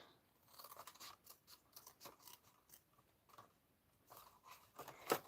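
Scissors cut card stock along a score line while making a treat box, giving a quick series of close, crisp snips and crunches in an otherwise quiet room.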